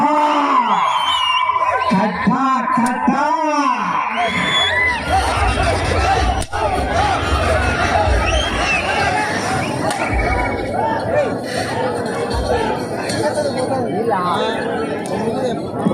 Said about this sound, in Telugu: ఘనమైన చప్పట్లు కేరింతలు కొట్టాలా